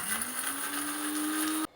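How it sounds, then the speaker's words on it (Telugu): An electric mixer grinder grinding cooled roasted masala, with a loud, steady motor whine whose pitch rises slightly as it runs, then cuts off abruptly into near silence, close and alone. "మసాలా చల్లారిపోయిందండి, మిక్సీ పట్టేద్దాం."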